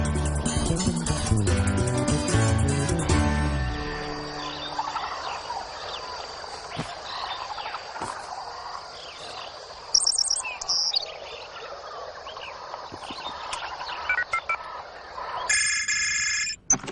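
A rare forest bird gives loud gobbling calls at the start in a cartoon, then softer chirps and scattered calls continue through a quieter stretch, with sharp bursts of calling near the end.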